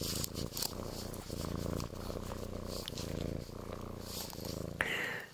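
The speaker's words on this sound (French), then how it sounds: "Ce chat est une usine à ronron." A cat purrs close up in a steady, rhythmic rumble that pulses in regular cycles, with a brief higher sound near the end.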